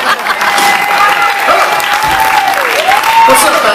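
Comedy show crowd applauding and cheering in a steady, dense wash of clapping, with a few voices calling out above it from start to finish.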